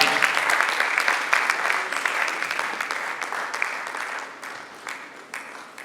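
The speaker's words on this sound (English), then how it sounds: "A round of applause for him." Workshop attendees applaud a visiting lecturer, Dr. Johnson, with a sustained, fairly loud burst of many hands clapping that gradually thins and fades, a few isolated claps lingering at the close.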